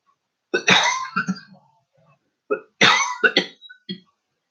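A person coughs in two separate fits, each a cluster of several sharp, throaty bursts with a little throat clearing, close to the mic and loud, with a short quiet gap between them.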